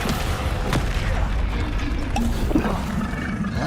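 Spells strike targets in Hogwarts Legacy, producing a few sharp booming impacts and crackling bursts over a constant rumbling game soundscape, fairly loud and close.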